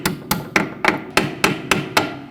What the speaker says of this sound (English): so I'm going to take a hammer and gently tap it.